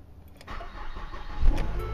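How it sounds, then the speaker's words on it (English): A 2010 Ford Fusion's engine cranks and catches, then settles into a loud, rumbling idle close by, heard alone without voices. "We will then start the car again."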